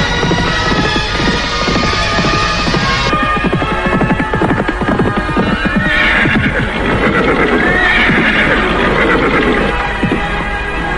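Horses neigh and whinny over a constant rhythmic clip-clop of hooves in a loud, dense audio-drama soundscape of riding, continuous throughout with no pauses.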